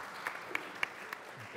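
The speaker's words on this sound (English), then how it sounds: "let's give them a round of applause for all their efforts." A conference audience gives a brief round of applause after a panel discussion: a soft wash of clapping with a few distinct claps standing out, fairly distant and short.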